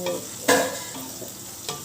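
Sliced potato and pointed gourd fry in hot oil in a pan, giving a steady sizzle. Two sharper bursts come when a spatula stirs and turns the pieces, and no one speaks.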